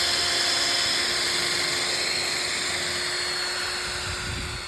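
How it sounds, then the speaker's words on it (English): A power drill bores pilot holes into wooden dog-ear fence pickets for a raised garden bed, a steady high whine held loud and close for several seconds with no talk. "I'm gonna just pre-drill my holes that cuts out the wood from splitting"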